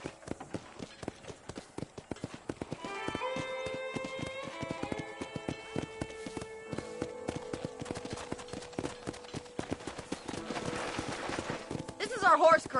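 Horses at a corral in the video game Red Dead Redemption: rhythmic hoof clip-clops and footfalls continue throughout, with occasional whinnies, under game music and people talking.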